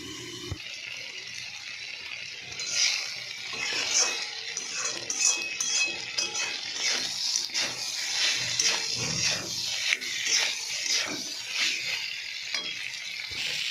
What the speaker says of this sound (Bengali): আলু আর সয়াবিন বড়িটা ভালো করে কষিয়ে নেবো, তারপরে জল দেবো